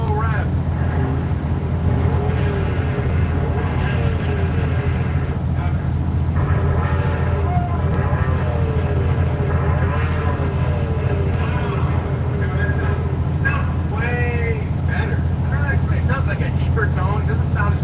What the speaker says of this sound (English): I'll give it a little rev.